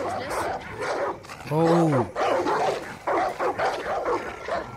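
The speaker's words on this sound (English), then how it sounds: "We got a lot of dogs." Several dogs in the Far Cry 5 video game bark and yip in quick bursts, with a clear howl-like bark standing out midway, mixed with game noise while people talk over the sounds.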